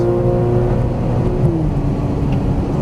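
A Porsche Cayman GTS on a racetrack, its engine holding a steady, loud drone with smooth pitch shifts as revs change, heard close and continuous.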